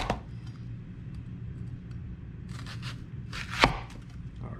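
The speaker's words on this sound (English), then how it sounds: "you want to slice them into rings" A kitchen knife cuts through a whole onion into thick three-quarter-inch rings, giving a few sparse crisp slicing crunches against a cutting board, one sharper snap standing out near the end amid quiet background hum.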